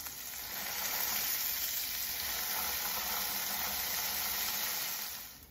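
A gorgonzola pita smash burger patty sizzles on a hot surface while pressed under a weight, making a loud, steady, broadband hiss that holds evenly throughout and tapers off at the end.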